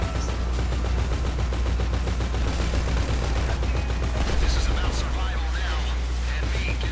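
Rapid bursts of gunfire hit a half-track vehicle in GTA Online. The rattling shots run dense and continuous under a voice.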